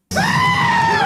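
Goats screaming in the film Thor: Love and Thunder, one loud, sustained, human-like bleating scream that starts abruptly and holds steady for about a second, close and alone.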